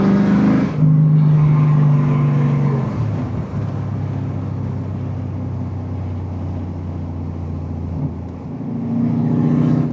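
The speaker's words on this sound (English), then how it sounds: "you can hear the pops now." A BMW M5 E39 V8 with its mufflers disconnected revs hard and loud at close range. A sustained roar drops into a rumbling decel with crackling exhaust pops, then climbs again at the end.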